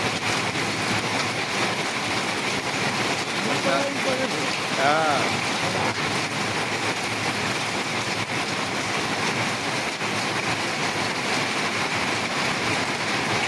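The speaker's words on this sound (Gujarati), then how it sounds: "વરસાદ ધોધમાર પડે છે વીજળી કડાકા સાથે" Heavy rain pours down steadily in a dense, even roar that fills the whole stretch, while a person speaks briefly over it; no distinct thunderclap stands out.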